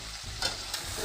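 Pork and tomatoes are stirred in a frying pot, a brief close scrape of the spoon over a soft constant sizzle, with no talking.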